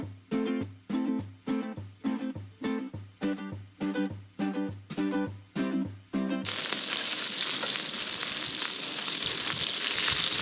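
Dried fish (bulad) dropped into hot oil in a pan, cooked outdoors: a loud, steady, close sizzle and crackle that starts abruptly after a run of rhythmic musical beats and holds to the end.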